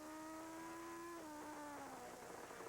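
A Legend race car engine drones loud and steady, heard from onboard at Nashville Speedway in 1997, with the pitch holding, then dropping away in stages as the driver lifts off and gets back on the gas.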